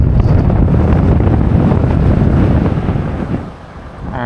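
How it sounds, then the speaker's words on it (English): Strong wind buffets the microphone on a bridge over the Intracoastal Waterway, making a loud, continuous low rumble that eases briefly near the end before gusting again. "It's so windy, it's moving my beard around."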